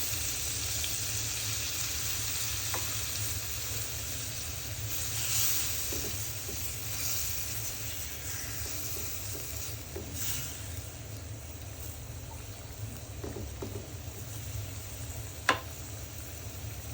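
Shrimp and taro stolons sizzle steadily in a pan, a continuous close frying hiss with occasional soft stirring clicks and one sharp tap near the end.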